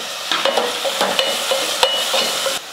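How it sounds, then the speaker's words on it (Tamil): Onions sizzle in a pan as tomatoes are added for a homegrown brinjal sambar, with loud close stirring clatters and scrapes over a continuous frying hiss. "வெங்காயம் வதங்கிடுச்சு, தக்காளி சேர்த்துக்கிறேன்."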